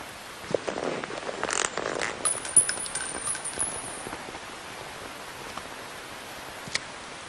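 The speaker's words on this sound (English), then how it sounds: "You can entertain me until the rain stops." Steady rain falls in the Metal Gear Solid 3 jungle as a soft, even hiss, with a few sharper clicks and patters over the first few seconds and no voices.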